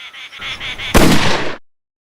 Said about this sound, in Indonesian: Suara tembakan keras terdengar ketika layar menjadi kosong